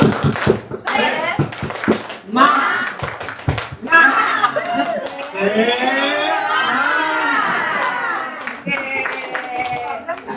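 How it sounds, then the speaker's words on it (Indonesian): A group at an indoor gathering performs a patterned spirit clap, sharp clusters of rhythmic clapping in the opening seconds, followed by voices chanting and calling out in unison, fairly close and loud. "Tepuk semangat."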